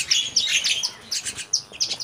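A starling imitating the call of a Nias hill myna, giving a quick series of loud, bright chirps and whistles in rapid bursts, close and alone.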